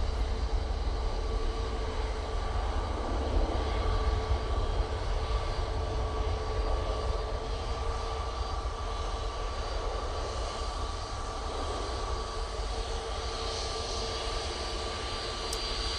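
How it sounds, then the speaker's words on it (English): An Emirates airliner touching down at Manchester after a flight from Dubai produces a steady, somewhat distant engine rumble with a sustained tonal whine, even in level from start to finish. "Emirates just touching down."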